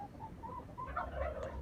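Chickens and turkeys huddled in snow on a freezing winter day give soft clucks and gobbling calls, close but faint, over a low background rumble.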